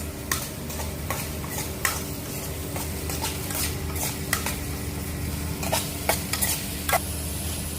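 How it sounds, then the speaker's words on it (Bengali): Pumpkin and pointed gourd pieces stir-fry in a pan with a constant sizzle, while a spatula scrapes and clicks against the metal in irregular strokes close by. "এই যে দেখেন ভাজাটা হয়ে গেছে আর ভাজতে হবে না"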